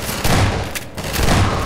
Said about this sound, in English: the shotgun's so deadly in this game